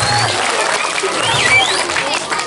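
Audience applause at a Balinese comedy show, a loud continuous clatter of clapping mixed with crowd noise and some voices from the audience.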